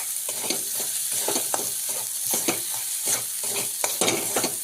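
A spiced potato mixture with garam masala, coriander powder and turmeric sizzles in a pan, with repeated scraping stirring strokes in an irregular rhythm over a constant frying hiss, close and clear.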